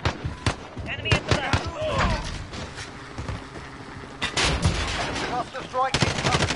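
Rifle gunfire in Call of Duty Modern Warfare rattles in irregular bursts and single shots amid dense game noise, with a player talking over the action.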